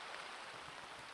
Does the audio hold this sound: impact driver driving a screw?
no